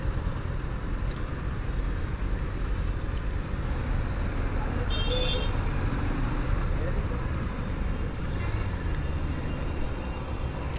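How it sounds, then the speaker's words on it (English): Honda CB650R motorcycle creeping through bumper-to-bumper traffic, a constant dense rumble of idling engines and road noise all around, with no distinct events standing out. "in bumper to bumper situations like this, you just need to leave the clutch a little bit and it moves"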